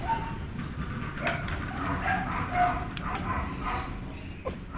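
Several dogs, some with mange, bark and yip in a busy outdoor spot, short overlapping calls scattered through a noisy mechanical background.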